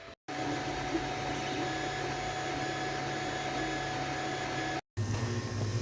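A 3D printer printing phone mount clamps for a longboard, a steady mechanical hum and whir running continuously at close range, briefly cut twice.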